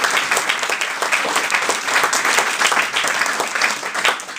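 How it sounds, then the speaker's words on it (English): An audience at a magic show gives two stage volunteers a big round of applause, loud continuous clapping that swells slightly and then begins to taper at the end. "A big round of applause."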